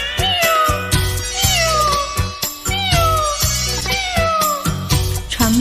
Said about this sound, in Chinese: 有只野猫轻轻地叫啊